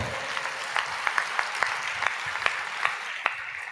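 A congregation breaks into applause during a Telugu Christian sermon: a steady wash of many hands clapping at once, punctuated by sharper individual claps, sustained throughout at moderate volume.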